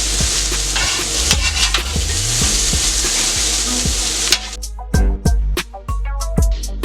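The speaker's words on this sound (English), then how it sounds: "Alright, so the steaks are on. I'm going to flip them over." Steaks sear in a steel pan with a loud, steady sizzle and scraping as they are flipped. The frying then thins into sharp, separate spits and crackles with knocks of metal on the pan.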